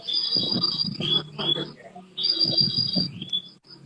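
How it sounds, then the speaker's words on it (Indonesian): Shrill, repeated bird calls ring out in two bursts, close and bright, while people talk underneath. "Ada suara burung."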